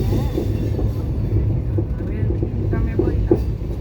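A passenger train runs on its rails, heard from onboard as a continuous low rumble with faint rhythmic clatter and a few higher squeaks.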